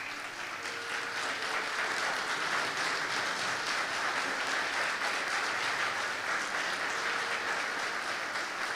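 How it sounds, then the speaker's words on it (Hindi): An audience at a church sermon stands and claps in a dense, steady wash of applause that stays even and fairly loud throughout, with no voices rising above it. "वो खड़े होकर तालियां बजा सकते हैं, सिर्फ वही लोग"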